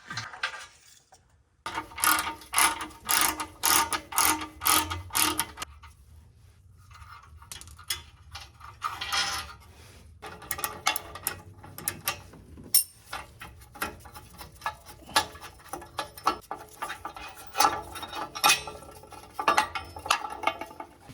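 Ratchet removing header bolts on a 1997 Acura Integra Type R, making quick runs of rapid clicking pawl strokes mixed with metallic clinks and handling noises, close by, with no talking.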